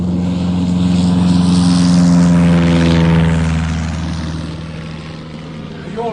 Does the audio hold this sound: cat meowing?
no